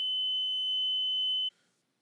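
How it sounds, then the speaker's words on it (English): A Radiation Alert Area Monitor sounds its audible alarm, a steady, pure high-pitched electronic tone held for about a second and a half before cutting off abruptly into silence. "Built-in indicators feature an ultra-bright strobe and an audible alarm"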